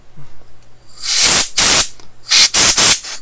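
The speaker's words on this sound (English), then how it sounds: "just grab the spray duster and come around the edges and blow it there" Compressed air spray duster blowing debris from around a GoPro 9 lens mod, four loud hissing bursts, two pairs of sharp blasts with brief gaps, close to the mic.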